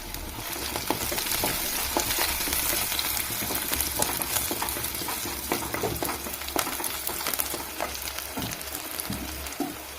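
Shallots and curry leaves sizzling hard in a frying pan for a tuna fish curry, a loud dense crackle with scattered pops and stirring throughout, no talking.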